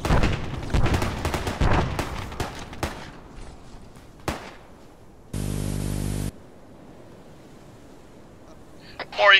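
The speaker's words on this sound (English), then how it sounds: "They're shooting the civilians." Gunfire cracks in rapid bursts of sharp shots through the opening seconds, followed by a few isolated shots, a block of static and a final noisy burst.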